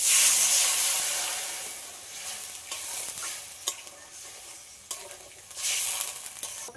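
Water poured into a simmering Bengali amra curry in a pan, with turmeric just added, giving a steady sizzling, stirring hiss that loudens and eases, with no talking.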